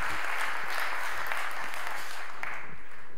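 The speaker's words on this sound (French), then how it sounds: "On peut vous accueillir avec quelques applaudissements." An audience at a round-table conference on EU innovation policy welcomes the panelists with steady, full applause. The clapping is loud and sustained, tapers slightly toward the end, and has faint voices underneath.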